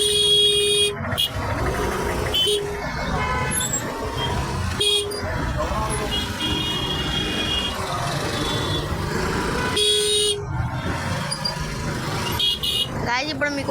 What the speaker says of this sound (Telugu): ఇక్కడ ఫ్లైఓవర్ మీద మొత్తం ట్రాఫిక్ అయిపోయింది.